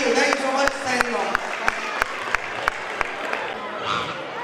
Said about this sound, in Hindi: आशीष और ज्योतिरंजन दास के लिए जोरदार तालियां